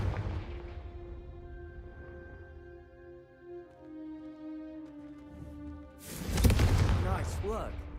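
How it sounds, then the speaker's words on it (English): A Confringo fire spell cast in the Hogwarts Legacy video game, heard as a burst of explosive blasting near the end after a stretch of tonal game music and voices. "a Confringo cast travels a bit farther than that of a spell like Incendio"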